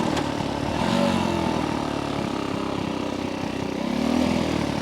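A vintage 1964 Honda C200 motorcycle engine humming steadily while being ridden, with a modest rise and fall in pitch as it revs, fairly quiet and continuous with wind around it.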